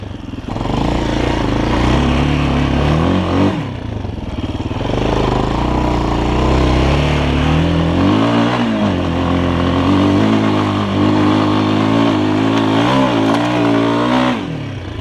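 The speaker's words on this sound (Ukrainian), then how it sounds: "Я буду давати газ." A motorcycle in a forest revs repeatedly as the rider opens the throttle, loud and close, its pitch surging and falling in several swells with some mechanical clatter over fifteen seconds.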